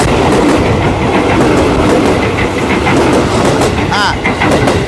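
A train running on railway tracks nearby, a loud continuous roar of rumbling wheels and clickety-clack with a brief metallic squeal near the end, voices faintly mixed in.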